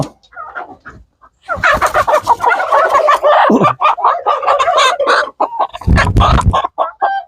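Rhode Island Red chickens of an American line on a farm, a loud, busy mix of clucking and squawking bird calls that runs almost continuously, with a short pause near the start.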